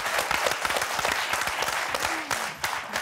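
A French game-show studio audience claps steadily for the four Motus contestants, a dense, close burst of applause that carries on without pause.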